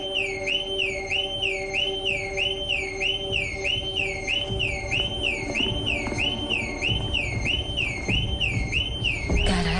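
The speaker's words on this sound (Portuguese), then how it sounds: "Por que o alarme está ligado?" A house alarm goes off with a loud, rapidly warbling electronic siren that repeats continuously for about ten seconds, then breaks off into a burst of clatter at the end.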